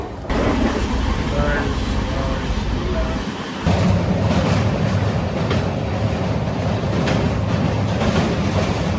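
A train rolls along the railway, a loud, continuous rumble with rattling carriages that swells partway through and stays heavy to the end.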